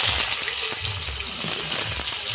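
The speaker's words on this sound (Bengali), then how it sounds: "তেলটা গরম হয়ে গেছে সেই তেলের মধ্যে আমি দিয়ে দিলাম পেঁয়াজ কুচি" Chopped onion frying in hot oil in a pan: a loud, continuous close sizzle and crackle holding steady throughout, with no talk.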